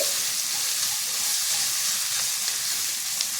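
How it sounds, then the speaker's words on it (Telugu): Onion pieces fry on a high flame in a pan for an aloo corn veg pulao, a loud, dense, unbroken sizzle heard up close with no talking. "మంటను హైలోనే ఉంచి బాగా ఎర్రగా వేయిద్దాము ఉల్లిపాయ ముక్కలు"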